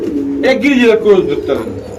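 Pigeons coo at a pigeon market: loud, close, throaty rolling coos rise and fall in a couple of bursts, with voices mixed in.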